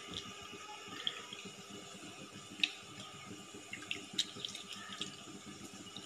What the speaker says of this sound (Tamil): இப்போ நம்ம இந்த புளியையும் தக்காளி பழத்தையும் நல்லா கரைச்சிக்கிடுவோம்.